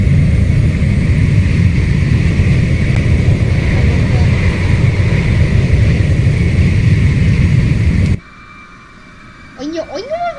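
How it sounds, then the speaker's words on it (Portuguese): An airplane in the Roblox Flightline game passes with a loud, continuous engine roar for about eight seconds, then cuts off abruptly, leaving quiet, faint tones and a brief voice. "Olha, olha o avião passando"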